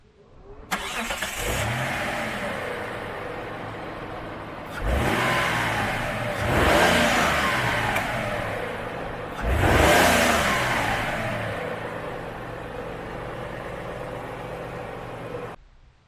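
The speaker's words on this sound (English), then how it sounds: "we'll give you a little sound test here" Mitsubishi Diamante with the 25V engine, in clean, healthy condition, starts and idles, then is revved in three distinct bursts that rise and fall back to a steady idle, heard close and loud with no talking.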